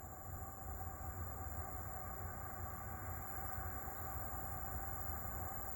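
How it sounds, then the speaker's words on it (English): Northbound coal train passing through Abbeville, a steady faint rumble and rolling wheel noise on the tracks, continuous and distant, with no voices. "Alright, we got a coal train, y'all."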